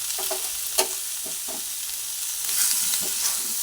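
Papaya and capsicum curry being stirred in a pan, with soft scraping strokes and a low sizzle, a few distinct clicks of the spoon against the pan spread across the moment.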